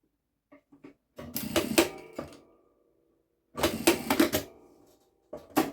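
A sewing machine topstitches fabric for a cosmetic pouch at a stitch length of 3.5. It makes two loud mechanical bursts of rapid stitching separated by a pause, with a few soft clicks before them and another burst starting at the end.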